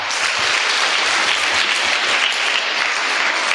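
Loud, steady applause from a crowd at a science quiz event, dense clapping sustained throughout without pause.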